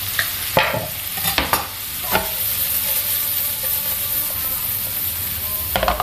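Shrimp and tomatoes stirred in a hot pan, with sharp scraping stir strokes clustered at the start and end over a constant close frying sizzle, no voices.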